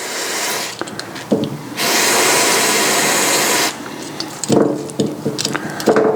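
Brake and clutch cleaner is sprayed on nuts and bolts from a 1966 Lambretta scooter in two sustained hissing bursts, framed by scattered clicks, clinks and handling noises.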